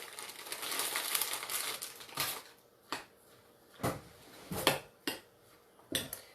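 A spoon stirs salted vegetables seasoned with caraway in a bowl, first as a dense rustling scrape, then as separate crisp clinks and scrapes against the bowl at irregular intervals, close and alone.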